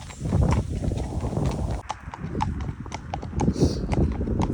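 Horse hooves clip-clop steadily on an open country road while being ridden, a regular walking rhythm close by with rustling and faint ambient noise around it.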